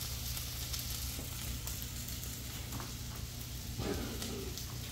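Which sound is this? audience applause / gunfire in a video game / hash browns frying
hash browns frying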